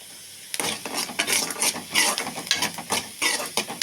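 Pirandai (adamant creeper) being fried in a pan, with rhythmic scraping and stirring of a spatula over a light sizzle, close and steady after a quiet start.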